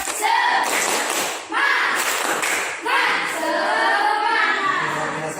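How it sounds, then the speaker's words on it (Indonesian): Schoolchildren in a classroom perform a rhythmic 'tepuk semangat' clapping chant, bursts of patterned claps and taps mixed with young voices chanting along, in three close, lively phrases. "coba tepuk semangat lagi, tepuk semangat"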